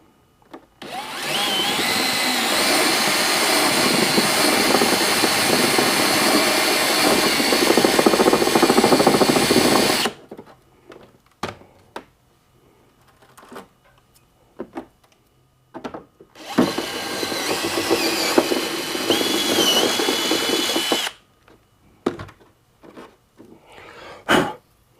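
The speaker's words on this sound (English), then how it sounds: "So I'm gonna put a 3/4 inch hole or 3/4 inch hole using a step bit" A power drill with a step bit bores a 3/4 inch hole for Honda Gold Wing trunk light wiring, giving two loud sustained whirring bursts separated by quieter clicks and handling noises.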